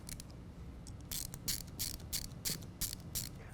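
An 8mm socket on a ratchet snugs down an AFE Magnum Force Stage 2 cold air intake in the factory airbox position, giving several short bursts of close, crisp clicking over a low room hum.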